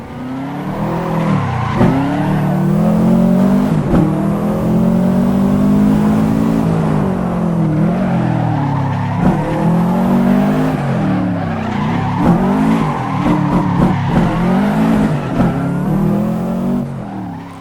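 A road car in the racing sim Assetto Corsa revs and shifts loudly up close, its engine note rising and falling through the gears while tires squeal and skid through corners.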